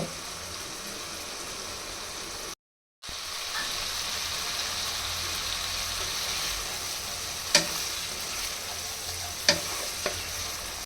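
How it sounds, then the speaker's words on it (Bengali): A spice paste of chili, coriander powder and salt is fried in a little oil for a boal fish curry with eggplant and potato, sizzling steadily with a brief cut near the start and a few sharp utensil clinks later. "এখন এই মশলাটা খুব ভালোভাবে কষিয়ে নিব। সামান্য পরিমাণে তেল দিয়ে দিব।"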